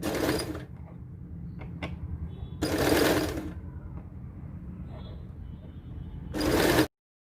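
A sewing machine stitches small double-folded frills for a tulip kurti sleeve, running in three short bursts separated by pauses, close up and fairly loud, with faint handling clicks between runs.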